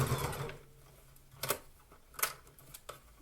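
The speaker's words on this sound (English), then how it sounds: "here I'm trying to do a reverse stitch" A home sewing machine runs a reverse stitch on a garment. It makes a soft mechanical whir, then a few short, sharp clicks and thumps spaced about a second apart, close and fairly quiet, with no voices.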